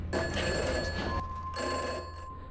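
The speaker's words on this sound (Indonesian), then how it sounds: "Seketika telepon tersebut berdering, namun anehnya telepon itu tidak terhubung ke kabel apapun." Telephone ringing in a horror film, a loud, continuous old-style bell ring that breaks off briefly and then rings again, close and dominant.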